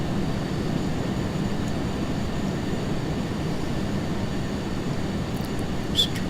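A T-38A jet taxiing onto the runway in a flight simulator game gives off a steady, continuous engine drone with a low rumble and faint whine, unchanging and alone for the whole stretch.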